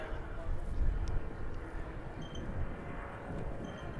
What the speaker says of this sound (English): Nice wee little plane.